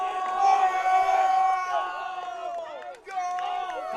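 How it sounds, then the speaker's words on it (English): A crowd at a 2016 girls high school soccer match between Taylor Baptist and Clinton cheers and whoops after a Clinton goal, voices loud and overlapping before easing briefly and swelling again. "To the crowd's thunderous applause."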